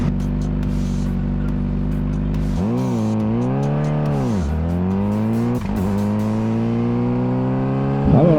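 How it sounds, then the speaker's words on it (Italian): A 2024 Honda CBR600RR revs loud and close while riding on a wet road, its engine note steady at first, then rising and falling through gear changes, with tyre hiss underneath. "E andiamo a provare sta CBR 600 con il bagnato"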